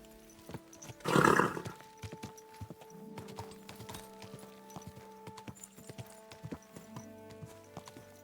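Horse hooves clip-clop and a horse whinnies in Kingdom Come: Deliverance 2, with a loud burst of neighing near the start followed by a steady run of light hoof steps and game ambience.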